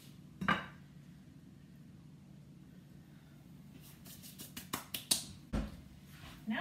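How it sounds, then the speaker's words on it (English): Sharp taps against the outside of a buttered, floured cake baking dish to knock loose excess flour, one early knock then a quick cluster of light clinks, close and alone over a low kitchen hum. "you just kind of tap the outside of the dish to get the extra flour out of there."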